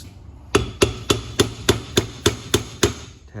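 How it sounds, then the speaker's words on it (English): Nine sharp, evenly spaced taps of a small hammer seating the input shaft of a 4L60E transmission, each a crisp metallic knock with a brief ring, close up with a low hum in between. "small hammer here."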